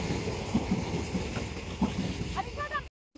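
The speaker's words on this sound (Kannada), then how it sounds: "ಈ ರೈಲು ಹೋಗುವಾಗ ಸೈಡಿಗೆ ನಿಲ್ಬೇಕು." A train rumbles past nearby with a steady rushing roar, faint clicks of the wheels on rail joints, and brief tonal squeals near the end before it cuts off abruptly.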